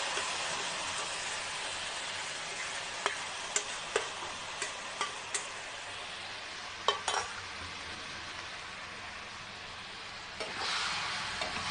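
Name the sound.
stirring grated raw mango mixture in a pan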